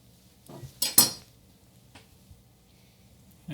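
A knife slicing a chunk off a block of mozzarella cheese on a kitchen board, a few close, soft clicks and scrapes with one sharper clink midway, otherwise quiet.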